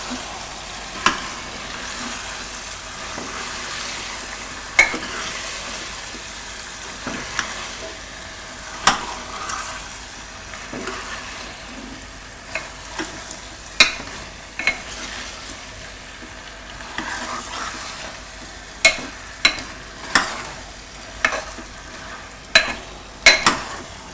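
A spoon stirs a potato vegetable curry in a frying pan. Sharp scrapes and taps against the metal recur at irregular intervals over a soft, constant sizzle, with no one talking.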